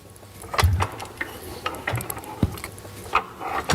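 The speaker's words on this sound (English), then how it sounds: "We've cleaned up the moving parts and reassembled the pump." A restored WWII-era pump under test works in irregular mechanical clanks and ratcheting knocks, close and moderately loud, with short bursts spaced unevenly across the stretch.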